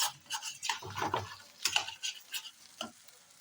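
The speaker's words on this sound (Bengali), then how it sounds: "তো আমি এটা ভালো করে ভেজে নিই" Vegetables for khichuri sizzle in a pan while a spatula scrapes and stirs in quick, uneven strokes, close and fairly quiet.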